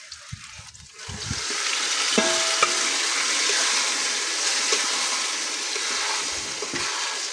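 Chopped onions and tomatoes hit a hot pan and fry with a loud, continuous sizzle close by, after a few clunks of stirring, while the Ilocano dish cooks.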